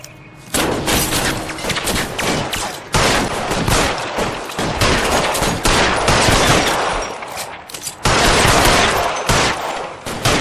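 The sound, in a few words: gunfire in the video game LA Noire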